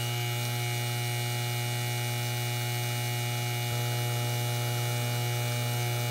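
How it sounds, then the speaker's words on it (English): A Tesla three-phase motor turning as a generator gives off a steady, unchanging electrical hum with tonal whine, continuous and close, with no voices. "Now listen to that motor. That thing is beautifully spinning."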